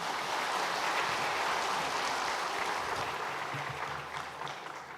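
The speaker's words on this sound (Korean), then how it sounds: "큰 박수로 격려해 주시기 바랍니다" Congregation in a church applauding children at a Christmas service, a dense, steady wash of clapping throughout that fades slightly toward the end.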